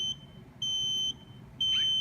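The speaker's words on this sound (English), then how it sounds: "It beeps several times" Three short, high-pitched electronic beeps at steady intervals, fairly quiet, over a low background hum, from an intermittent compression machine being switched on.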